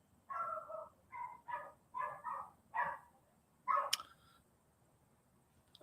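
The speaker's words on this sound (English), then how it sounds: "Got the dog going crazy in here" A dog indoors gives a string of six or so barks at an uneven pace, fairly faint and somewhat distant in the room, then falls quiet.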